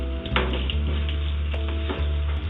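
Potato pieces for dhaba-style dum aloo fry in hot oil in a pan, a steady close-up sizzle with a few soft clicks and stirring knocks, no voices.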